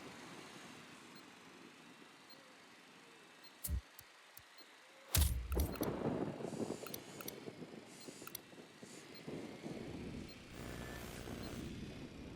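Drone launched in Ghost Recon Wildlands, a sharp mechanical clatter followed by a sustained whirring buzz that carries on over game ambience.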